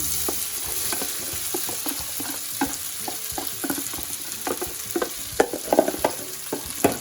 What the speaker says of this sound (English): Now it's time to add soaked sabudana.